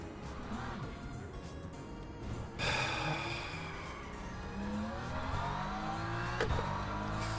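An LMP prototype race car engine in the sim racing game Le Mans Ultimate at Interlagos drones continuously, climbing and falling in pitch through shifts, with a sharper surge midway and a brief bump near the end.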